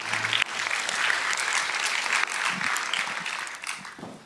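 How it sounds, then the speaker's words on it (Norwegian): Applause from a church congregation for the singers and musicians, a steady wash of clapping that holds for about four seconds before tapering off. "Vi gir en applaus til sangerne og musikerne her."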